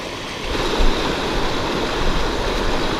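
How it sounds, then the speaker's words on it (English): Water in a small woodland brook on a trail loop rushes and babbles in a continuous broadband wash, close and fairly loud, with no voices over it. "Looks like this is the choice way to get across this brook"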